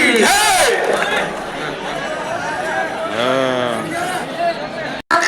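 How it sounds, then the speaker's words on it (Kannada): A large crowd at a village fair stone-lifting contest in Vijayapura roars and cheers loudly and continuously, with raised shouting voices swelling throughout, nearby and dense. "ಅವ್ರ ನೆಗು ಟೈಮ್ನಲ್ಲಿ ಸ್ವಲ್ಪ ಚಪ್ಪಾಳೆ ತಟ್ರಿ, ಅವ್ರಿಗೆ ಹುಮ್ಮಸ್ ಬರ್ತದ"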